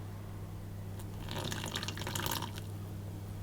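About two tablespoons of water trickle from close by into a bowl of icing sugar in a short, soft pour under a steady low hum, with no voices.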